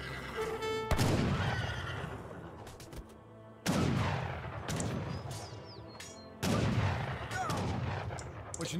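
Horses whinny during a battle in the video game Age of Empires 3, amid three loud bursts of gunfire and cannon blasts with crashing debris, set against busy game noise.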